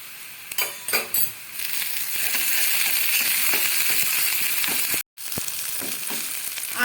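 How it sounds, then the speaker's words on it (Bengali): Onion frying in a pan with ginger and garlic paste, a loud close sizzle with stirring scrapes early on, holding steady, briefly cutting out, then resuming. "আদা রসুন দিয়ে পেঁয়াজটা একটু হালকা ভাজা হয়ে গেছে"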